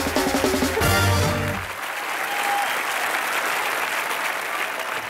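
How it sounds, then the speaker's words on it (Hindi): A studio comedy show audience gives loud, sustained applause for Juhi Chawla, with a burst of music and cheering at the start before the clapping carries on steadily alone. "सबसे पहले जूही जी के लिए जोरदार तालियां"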